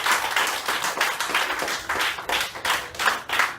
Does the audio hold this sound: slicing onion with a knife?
no